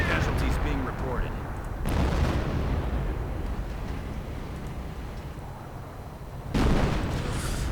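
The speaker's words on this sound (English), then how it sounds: "More artillery." Artillery fire in a real-time war strategy game lands in heavy booming blasts, with one big impact early and another near the end over a rumbling battle background.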